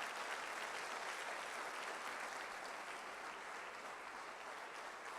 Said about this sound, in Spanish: Denle ese aplauso a Él